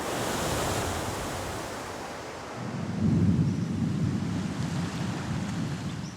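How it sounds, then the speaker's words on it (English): Storm wind and heavy surf pounding an island shore, a dense, continuous roar with deep rumbling low end that swells louder partway through, steady and enveloping with no voices. "As yet another storm hits the island"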